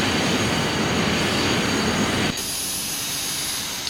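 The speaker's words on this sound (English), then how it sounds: "Hey, we shut down the engines" Simulated jet engines in Flight Simulator X roar loudly and steadily as a broadband whoosh, then cut abruptly to a much quieter, thinner hum with a faint high whine as they shut down at the gate.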